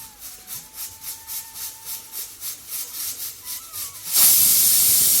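Steady rhythmic puffs of hissing steam build, then burst into a loud, continuous high-pitched whistle from a pressure cooker on a gas stove cooking upma, close by.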